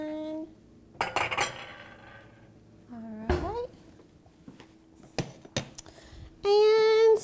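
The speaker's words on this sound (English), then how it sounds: "So I'm gonna grab a bowl." Bowls and dishes clink and clatter in a home kitchen as one is picked up, several sharp knocks and scrapes spread out, with a voice speaking between them and a tonal ring at the end.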